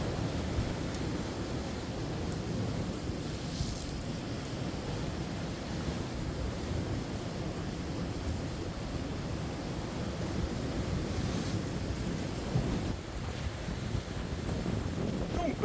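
Heavy storm surf churns along the sea coast during a strong sea storm, a steady broadband roar of breaking waves mixed with gusty wind buffeting the microphone throughout.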